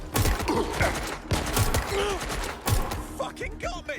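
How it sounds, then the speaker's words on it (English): Weapon reloading in Watch Dogs: Legion, a few sharp mechanical clicks and clacks mixed with gunfire bursts, set against game sounds and brief voices. "I'm empty. Reloading."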